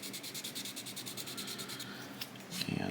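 A 1000-grit sandpaper rubs over a plastic part of a 1/350-scale USS Missouri model's main armament in quick, rhythmic, faint strokes, closing with a louder scrape.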